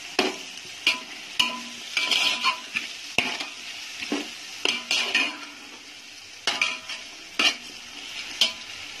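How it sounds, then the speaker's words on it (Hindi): Spices, including coriander, roasting in a pan for veg pulao, with repeated sharp metal spatula scrapes and clinks over a steady sizzle, close by and irregular in rhythm. "तो सारी चीजें अच्छे से भून रही हूँ।"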